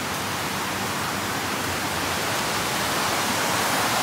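Loud, constant rushing of a muddy river fills the whole clip, a broad hissing roar with no pauses or voices.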